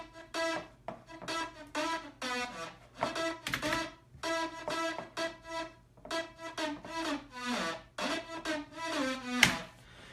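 A three-layer synth main lead from a future house track plays a series of short, bright, harmonically rich chopped notes in a bouncy rhythmic pattern, dry and fairly clear, without other sounds.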